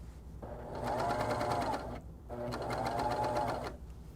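Sewing machine stitching a dart from the tip, two close bursts of fast whirring stitches separated by a short pause, fairly quiet and without talk.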